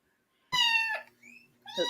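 A pet cat gives a loud, close meow lasting about half a second, followed by a softer, shorter mew and then another strong meow, alone in a quiet home.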